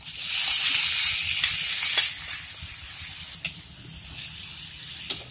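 Tomato added to a pan of sautéed garlic and onion, a loud hiss of sizzling at first that settles into a quieter steady frying, with a few small pops and clinks.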